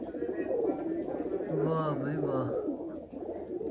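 Pigeons gathered close by coo in low, soft, rolling calls over a steady outdoor murmur, while a man exclaims in admiration over them.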